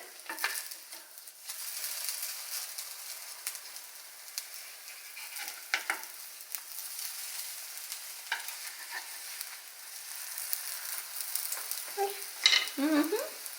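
Pieces of liver fry in a hot pan with a steady, close hiss and crackle of sizzling oil, broken by a few soft scrapes and taps as the liver is flipped.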